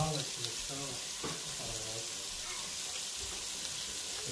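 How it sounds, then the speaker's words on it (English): Shrimp sauté in a pan of olive oil and butter, giving a dense, steady sizzle that holds evenly from start to finish, with faint voices murmuring underneath. "So we're sauteing the rest of the shrimp."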